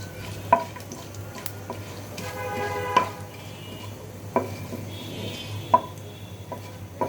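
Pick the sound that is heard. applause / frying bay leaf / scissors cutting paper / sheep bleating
frying bay leaf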